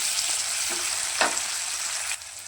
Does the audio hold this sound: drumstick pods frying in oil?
yes